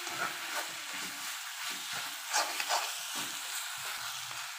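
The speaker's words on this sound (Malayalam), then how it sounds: "തക്കാളിക്ക ചേർത്ത് വീണ്ടും നല്ലതുപോലെ ഇളക്കി കൊടുക്കണം." Tomatoes and onions sizzle steadily in a pan for an egg bhurji, with soft scraping stir strokes coming at an irregular rhythm, close and fairly quiet, and nobody speaks.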